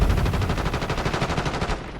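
Rapid automatic gunfire in a video game rattles in a fast, evenly spaced burst of sharp shots, loud and close, lasting about two seconds before stopping.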